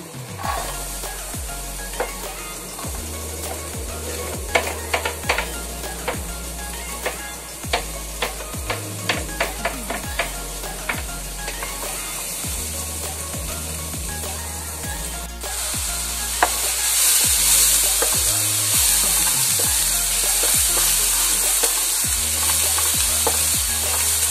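Onion sizzles and fries in a hot pan, a steady crackling hiss with scattered clicks and scraping stirs, growing louder and fuller partway through, close up with no talking.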